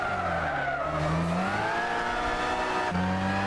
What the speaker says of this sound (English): the car does sound really nice, especially for a Spanish car